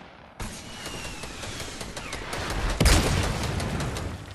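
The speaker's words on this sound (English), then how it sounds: "He shotgunned me in the air." Shotgun blasts and other gunfire sound during a Fortnite match, a sharp loud crack near the middle over busy game noise and scattered shots.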